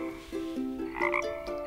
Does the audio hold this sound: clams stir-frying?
no